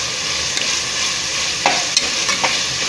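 Ground masala paste sautéing in oil for a green hyacinth bean biryani makes a steady close sizzle, with a few sharp scrapes of a spoon or spatula against the pan and no talking.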